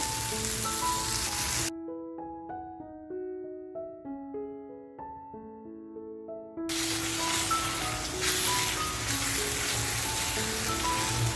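Loud continuous sizzling hiss of a fish pav bhaji mixture added to a pressure cooker, interrupted midway by a few seconds of plucked musical notes, then the sizzle resumes strongly.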